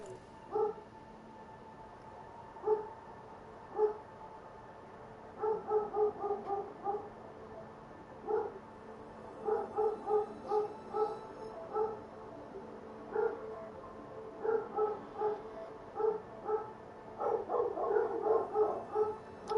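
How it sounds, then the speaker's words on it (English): Several dogs bark and yip in short bursts and clusters at moderate distance, steady and persistent throughout, over a quiet room background with no talk. "Sorry about the dogs barking."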